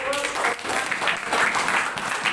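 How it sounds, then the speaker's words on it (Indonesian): An audience of students on a campus claps together in a steady, dense burst of applause that fills the whole moment at an even, moderate level. "Baik, tepuk tangan dulu."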